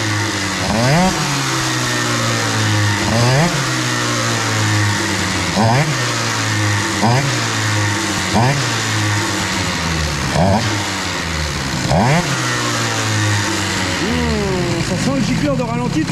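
An Airsal XT 77 boosted scooter engine revs close by in repeated rising and falling bursts over a steady buzzing idle, loud throughout.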